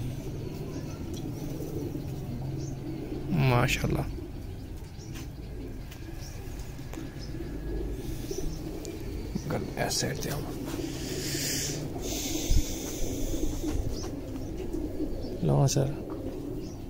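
Breeder pigeons coo in a loft, a few soft repeated coos rising above a steady background hum while people talk nearby throughout.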